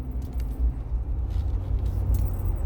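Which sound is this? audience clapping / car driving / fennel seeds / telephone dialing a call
car driving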